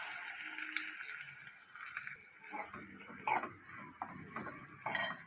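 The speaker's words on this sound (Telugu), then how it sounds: "ఆనియన్స్ వేయించుకుందాం ఫ్రెండ్స్ మూత పెట్టి." Two medium-sized chopped onions sizzle in hot oil in a pan while a utensil scrapes and clinks against the metal in irregular bursts, fairly close and moderately quiet.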